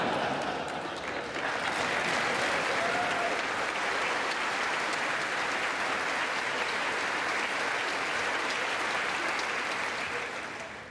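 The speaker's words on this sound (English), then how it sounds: "I never get such nice applause from the Japanese Diet." Sustained, dense applause fills a large chamber during a joint meeting of the United States Congress, a steady roar of many hands that holds for about ten seconds before starting to fade.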